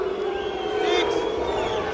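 A crowd at a German kickboxing match between Prince Amir Shafipour and Hans Waladi voices its displeasure with a loud, steady murmur and shouts, under a commentator's voice.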